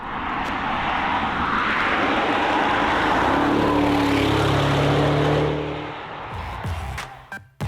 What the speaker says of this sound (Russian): 4-литровый V8, который знаком фанатам марки по предыдущим поколениям RS6 и RS7, и который порадует нас мощным звуком